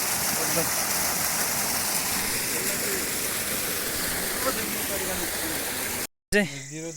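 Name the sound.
small waterfall stream flowing on a Himalayan trek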